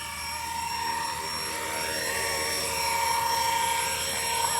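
A Blade 230S RC helicopter hovers and sets down, its steady high-pitched rotor and motor whine continuous and fairly close, holding level throughout with a slight rise near the end.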